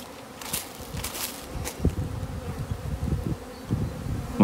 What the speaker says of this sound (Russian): Вот пчелы летают очень активно.